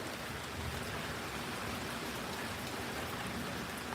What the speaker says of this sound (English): it's already getting wet from the rain.